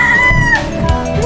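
Fighting cock rooster in a chicken pen on a Philippine farm, clucking and crowing close by in a short, loud burst with a rising call.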